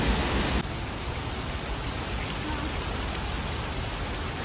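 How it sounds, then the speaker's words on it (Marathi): Waterfall at Jawhar in Maharashtra pouring steadily, a dense broadband rush of falling water close by with fine spray, continuous and loud, with no voices. "त्याच्या धबधब्याचं पाणी पडते ना"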